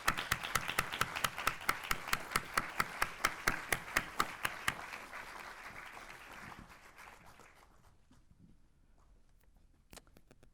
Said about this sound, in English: Please give a round of applause to Reynaldo.